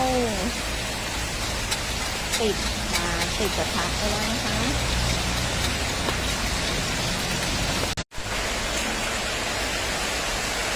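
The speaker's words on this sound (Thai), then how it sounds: "ได้ยินเสียงฝนไหมคะเพื่อน" Steady, dense rain patter fills the background while someone talks over it; a brief dropout interrupts near the end.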